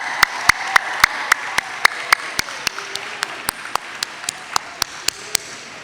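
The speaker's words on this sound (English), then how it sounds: "let's give it a round of applause" Graduation ceremony crowd clapping for the seniors, heard as a steady, evenly spaced run of sharp claps over a faint background, fairly loud throughout.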